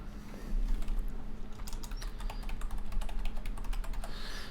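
Rapid, light keystrokes on a computer keyboard as a password is typed, close and fairly quiet, with irregular clicks over a soft steady background hum and no talking.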